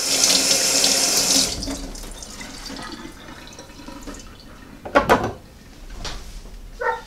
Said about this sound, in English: I'm going to wash my my hands here.